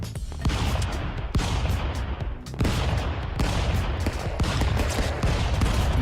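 Dense, rapid bursts of gunfire from the stick-figure fighting game Stick Fight: The Game crackle loudly and continuously, with brief gaps between volleys.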